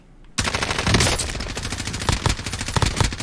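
AK rifle fire in the video game Warzone rips out in a close, loud, rapid automatic burst that continues for about three seconds with no break.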